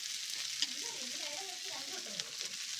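Mustard seeds frying in a hot pan make a steady, soft sizzle with faint crackles and a couple of small pops, close by and fairly quiet.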